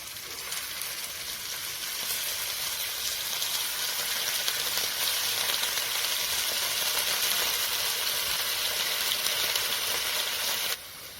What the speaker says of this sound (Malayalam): ഒരു പാനിലേക്ക് ആവശ്യത്തിന് എണ്ണ ഒഴിച്ച് കൊടുത്ത് നമുക്ക് ഈ ചിക്കനെ ഒന്ന് ഫ്രൈ ചെയ്തെടുക്കാം